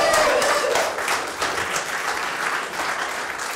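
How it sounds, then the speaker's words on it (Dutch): Audience applause at the opening of an art exhibition, a dense wash of many hands clapping at steady loudness throughout, with faint voices mixed into the crowd. "Een applaus voor de gebroeders Grimm"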